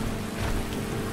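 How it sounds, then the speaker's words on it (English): Rain from the Obsidian weather mod in Skyrim, a steady dense hiss of falling rain, loud and continuous in a short burst. "I like the rain too. Obsidian weather mod."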